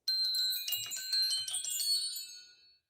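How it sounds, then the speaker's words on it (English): Handbells ring in a quick jumble of bright metallic strikes at a holiday convention event, the chiming tones overlapping and then fading out to silence. "I'm terrible with these bells."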